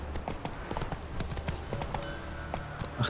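Rhythmic clip-clop of horse hooves in The Witcher 3, steady and close over a low ambient bed, with faint voices underneath.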